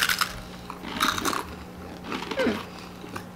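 Crunchy freeze-dried candy bitten and chewed up close in a few bursts of crisp crackling, with brief voice sounds between bites.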